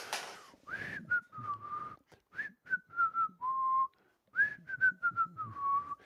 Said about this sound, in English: I'll just whistle when she comes home.